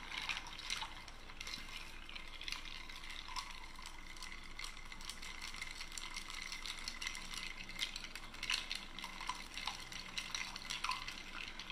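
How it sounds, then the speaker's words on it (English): A spoon stirs coffee in a cup, New Orleans style, making soft, repeated clinks and swirls that are faint and close, with no talking. "Let's give it a good stir"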